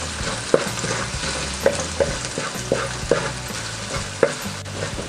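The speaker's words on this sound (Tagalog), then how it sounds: "Ipapa-golden brown lang po natin ng konti yung ating bawang" Garlic fries toward golden brown in a pan, a constant close sizzle punctuated by repeated sharp scrapes and clicks of a spatula stirring at a loose, regular pace.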